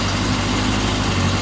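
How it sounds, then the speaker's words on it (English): A Yamaha XJ900F inline-four motorcycle engine idling, with a loud, steady, low burbling exhaust hum close by and no talking. "lovely throttle response from an inline 4. Nice burbling exhaust."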